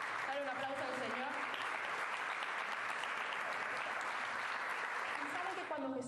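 A church congregation at a Spanish-language service applauds, a dense, sustained roar of clapping that fills the whole stretch, with voices audible at the edges.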